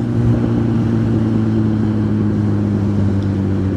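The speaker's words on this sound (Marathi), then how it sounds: "कसलं ट्रॅफिक आहे." Busy road traffic passes in a village. Idling and running vehicle engines blend into a constant close hum with steady tonal drones, and no voices are heard.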